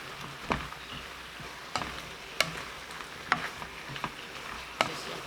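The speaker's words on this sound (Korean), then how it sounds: "2분 정도 볶은 뒤 고추장 듬뿍 1스푼 넣어 섞어주세요." Potatoes being stir-fried in a pan with gochujang give a faint, steady sizzle, broken by sharp utensil scrapes and taps against the pan every second or so.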